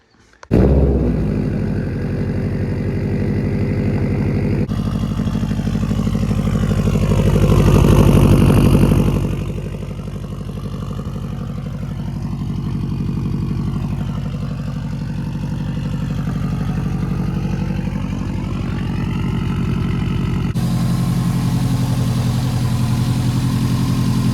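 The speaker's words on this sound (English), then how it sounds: "Let's do a cold start, right?" A Subaru WRX hatch with a newly installed turbo cold-starts with a sharp catch, surges to a loud, high idle, then drops to a steady, lower rumbling idle that runs on alone.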